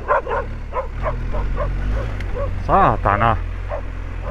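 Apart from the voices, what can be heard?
dog barking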